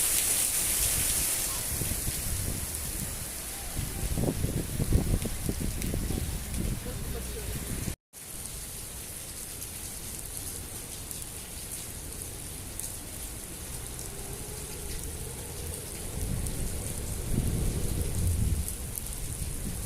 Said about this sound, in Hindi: सिर्फ बारिश बरसती हुई नज़र आ रही है और बारिश भी बहुत ज़्यादा तेज़ है।